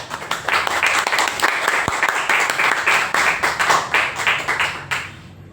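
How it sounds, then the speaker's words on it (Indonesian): Applause for a girl named Sabrina at a classroom event, a burst of many hands clapping that fills the room, rather close and loud, then fades out at the end. "Oke, tepuk tangan buat Sabrina."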